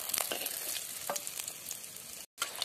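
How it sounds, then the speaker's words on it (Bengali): Banana flower pieces dipped in gram flour batter deep-fry in hot oil, producing a soft, even bubbling sizzle with light crackles. It stays fairly quiet and close, cuts out briefly near the end, and has no voices. "গরম গরম তেলের মধ্যে মোচা বেসনে ডুবিয়ে ছেড়ে দিলাম, লাল লাল করে ভেজে নেব"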